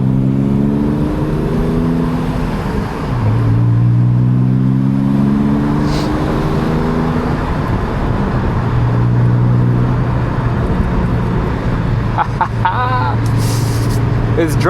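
A BMW E46 with an angle kit is driven hard, its engine note climbing through sweeping revs, loud and close from inside the cabin, with someone talking over it at times.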